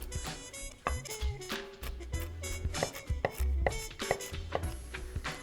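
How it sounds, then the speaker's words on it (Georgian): Walnuts chopped into small pieces with a knife on a board, a series of irregular, sharp close knocks and taps, sometimes in quick bursts, with no voices. "შევეცადოთ, რომ ესე დავჭრათ პატარა ზომებად, რომ მასას კარგად შეერიოს"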